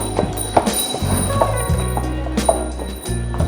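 Horse hooves clip-clop on a hard surface in Mdina, Malta, in an uneven rhythm, fairly close, with street noise and faint voices in the background.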